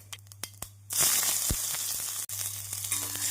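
Onions, green chillies and curry leaves drop into hot oil with popped mustard seeds, urad dal and cumin for a carrot-pea kootu, setting off a sudden loud, steady sizzle and crackle after a few faint pops.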